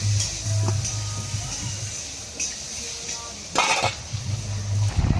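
A lid goes onto a cooking pot of simmering fish curry with one short metallic clank midway, set against a low steady kitchen hum and soft clinks.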